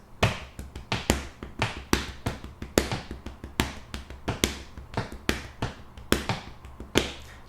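Hands tapping a repeating five-stroke grouping on the chest against quarter-note foot taps, a 5/4 polymeter: close, dry slaps in a steady stream with low thuds and accents falling on a regular pulse.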